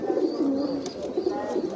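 Pigeons in a breeding loft where they have just laid eggs, giving soft repeated cooing, close and alone.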